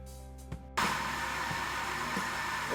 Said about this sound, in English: because the mixer not make a lot of noise